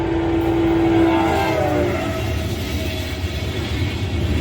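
CSX 911 leads a daily intermodal freight train, giving a steady, heavy rumble with a sustained horn tone at the start that fades after about a second, leaving the continuous roll of the passing train.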